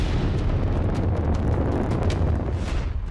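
A fuel tank at an industrial park explodes in a continuous, loud, rumbling roar with crackling bursts, sustained without any speech.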